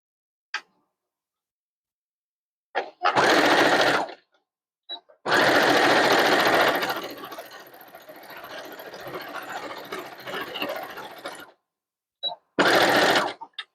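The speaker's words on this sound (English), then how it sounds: "I'm going to go to the sewing machine." A serger (overlock) sewing machine stitches fabric in short bursts, then one long steady run of rapid mechanical stitching, separated by silent pauses and small clicks.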